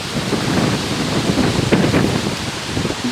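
Strong, gusting wind from Hurricane Irma roaring over the microphone in a loud, broad, steady rush with brief buffeting surges, and no voices.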